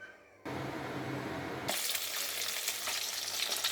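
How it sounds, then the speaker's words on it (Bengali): Hilsa fish dropped into hot oil for frying set off a loud, steady, close-up sizzle that jumps in intensity partway through and keeps crackling without pause. "এখন ইলিশ মাছগুলোকে ভেজে নেব।"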